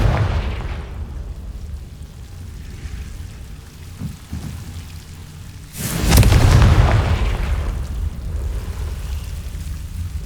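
A Confringo blasting spell goes off in Hogwarts Legacy as one sudden booming explosion over a low rumbling ambience, with a long decaying roar.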